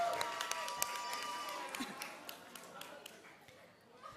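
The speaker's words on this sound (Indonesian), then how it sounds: "Sudah, tepuk tangan dulu dong untuk kategori wanita." Audience at a final singing competition for a radio station event breaks into scattered applause, a loose crowd of claps that thins out over several seconds, heard at moderate distance in a hall.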